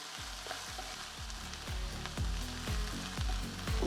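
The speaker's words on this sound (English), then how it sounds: "the onions are cooking down nicely. They're starting to caramelize a bit" A chopped onion fries and caramelizes in a pan for beef stroganoff, a constant close sizzle broken by regular stirring knocks and scrapes, with no voices.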